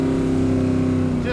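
A 1969 automatic car with a cowl hood, running while driving, gives a strong steady engine drone with deep harmonic tones, loud and close, and a brief rise near the end.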